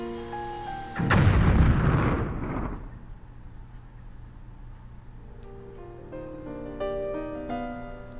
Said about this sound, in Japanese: また爆発する。